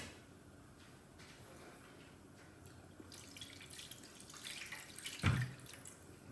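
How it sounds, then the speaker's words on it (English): Water runs from a kitchen tap while cooking mandi rice, a faint steady stream with light drips that swells near the end, where a short, sharp clunk stands out. "put a little bit of water"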